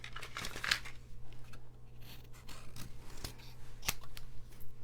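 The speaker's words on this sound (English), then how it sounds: "let me cut this a little bit more." Scissors snip through paper during a stamping and collage craft session, a few short crisp cuts with soft crinkling in between, close and fairly quiet, with no talk.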